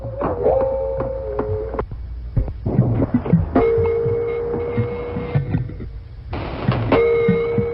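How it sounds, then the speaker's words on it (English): Underwater, a walrus's low grunts and thumping clicks mix with long ringing tones that rise in and hold, repeating several times against a murky rumble. "All walruses make a wide variety of clicks and grunts underwater"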